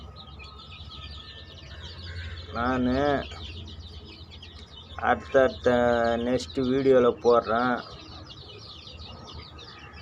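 Hens and chicks cluck and call in short harmonic bursts, loud and close, while a voice talks over a steady background hum.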